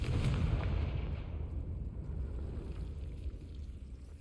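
A Confringo fire spell blasts in Hogwarts Legacy, a loud booming burst of game explosion that rumbles and slowly fades over several seconds with no talking.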